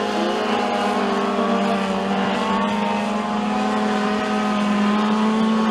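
Mini stock race cars at McKean County Raceway during a heat race, engines droning steadily as they power off turn four down the front straightaway, a loud sustained multi-car roar with shifting engine pitch.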